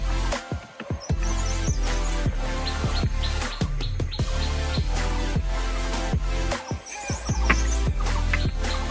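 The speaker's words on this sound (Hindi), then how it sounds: "हर तरफ जंगल ही जंगल दिखाई देता है यहाँ से, और चिड़ियों की आवाज़।" Birds chirping and calling throughout a hot, dense jungle, repeated high tweets over a steady loud bed of insect and forest noise with thumping bumps.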